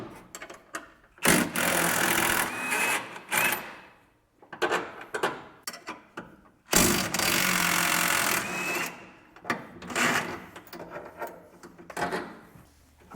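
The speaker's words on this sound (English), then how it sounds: "I'm going to go ahead and get this unbolted real quick," Bolts being loosened on the suspension of a classic Ford Mustang near the upper control arm, heard as two long, loud mechanical bursts like an impact gun, separated by shorter ratcheting and clanking bouts, close up with no talk.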